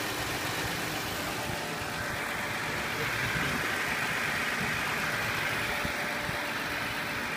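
A Toyota Avalon engine idles steadily with a continuous low rumble and a smooth mid-range hum, close by and constant throughout, with no talking.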